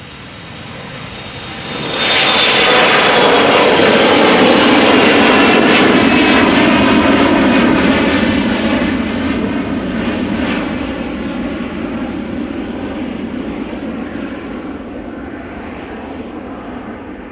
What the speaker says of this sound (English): We have an Embraer 175 underway to Nuremberg.